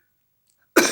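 A single short, sharp cough bursts out suddenly at the very end after near silence.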